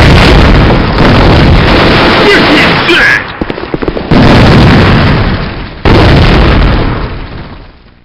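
Grenade blasts in a clan match on the Industry Town map, loud booming explosions with heavy low rumble, several bursts in quick succession that roll off and fade, close and dominant over wind-like noise.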